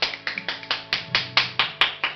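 People clap along to three singers, a brisk, regular run of about a dozen sharp claps, close and crisp, with no voices over them.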